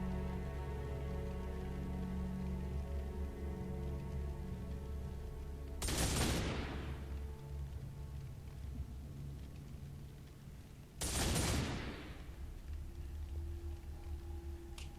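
Two heavy bursts of gunfire from a Terminator in the Warhammer 40K: Space Wolf video game, each a short loud blast landing several seconds apart over a steady droning game soundtrack.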